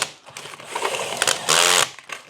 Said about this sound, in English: take this uni bit and drill out the center of it